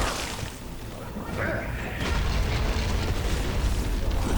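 A grenade goes off in the video game Castlevania: Lords of Shadow, a dull rumbling blast that swells midway and keeps booming beneath the game's ambient sound and effects.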